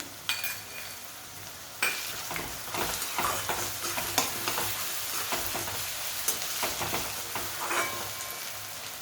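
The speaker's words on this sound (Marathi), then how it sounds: "यात ही जी पेस्ट बनवून घेतली आहे अद्रक आणि लसणाची ती टाकणार आहे" Ginger-garlic paste sizzles and fries in a pan for veg pulao, with a spoon scraping and stirring it in steady strokes close up and no talk.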